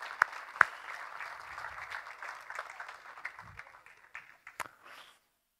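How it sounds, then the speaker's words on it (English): A conference audience at a security talk in Stockholm applauds the incoming speaker, a few sharp loud claps at the start, then a thinning patter that fades out to silence. "please give a round of applause for Olle Segerdahl"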